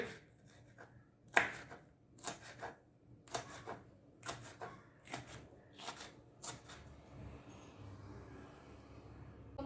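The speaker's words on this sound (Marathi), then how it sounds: "आपण हे याचे बारीक काप करून घेणार आहोत." Green chillies being finely sliced with a knife on a board, a series of quiet, irregular scraping cuts in short bursts with pauses between, no talk.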